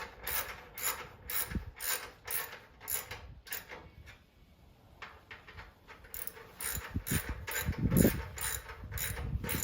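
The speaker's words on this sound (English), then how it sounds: "just barely tightening these, not torquing anything." A hand ratchet lightly snugs bolts on a 1971 Monte Carlo during mock-up, giving rapid bursts of close, crisp clicking in a steady rhythm, with a short pause midway before the clicking resumes.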